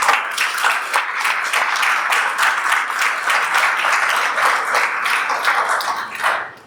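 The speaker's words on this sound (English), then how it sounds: "let's give them a round of applause" Audience applause at a startup pitch night in New York City, dense steady clapping from a crowd that holds for several seconds and then fades out at the end.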